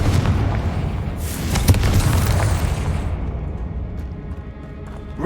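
In Hogwarts Legacy, a Confringo fire spell blasts with a loud, rumbling boom that swells and crackles for a few seconds before fading into softer debris and ambient game noise.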